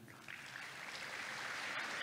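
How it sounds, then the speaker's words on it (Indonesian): Audience applause at an Indonesian stand-up comedy performance, a steady wash of many hands clapping that swells slightly and holds at moderate level for a couple of seconds. "Coba yang bangga jadi orang Indonesia, tepuk tangan."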